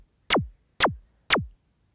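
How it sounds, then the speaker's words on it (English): Synthesized zapping effect built from filtered white noise, like a TV switching channels: three identical sharp bursts sweeping downward from bright to low, evenly spaced about half a second apart, each fading quickly into silence. "Ah, that's that zapping sound."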